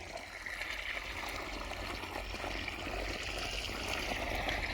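Water runs steadily after being turned on, a continuous, moderately loud rushing flow with no talking over it.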